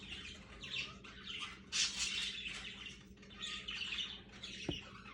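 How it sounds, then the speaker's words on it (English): Pet birds squawk and chirp indoors in repeated bursts, fairly faint and close, over a low steady background hum. "I hope my birds aren't being too loud for you guys."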